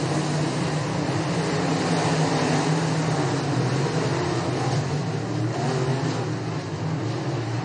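Race cars roaring around a track in the final laps, a continuous loud engine drone with swelling passes as cars sweep by, no talk over it.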